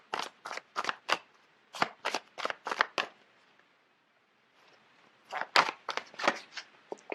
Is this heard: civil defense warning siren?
no